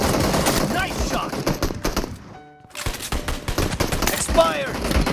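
Rapid gunfire rattles through a team deathmatch round of a mobile shooter game, dense bursts of shots with a short lull midway, then the firing picks up again with other game sounds layered in.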